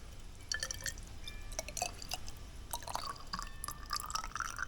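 E85 ethanol fuel is poured from a tiny cup into water in a container, producing faint trickling and dripping splashes with small glassy tinkles, quiet and close against a low background hum.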